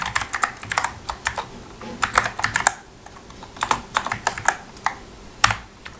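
Typing on a computer keyboard while writing a line of code, close and clear, with quick clusters of key clicks separated by short pauses.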